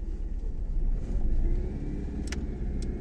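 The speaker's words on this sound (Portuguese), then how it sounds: "Vamos agora dar uma volta com esse Fiat e ver como é que é." A 1990s Fiat car with older fuel injection drives along, its steady engine rumble and road noise holding close and even throughout, with a couple of faint high squeaks near the end.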